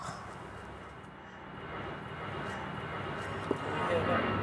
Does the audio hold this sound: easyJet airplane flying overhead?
yes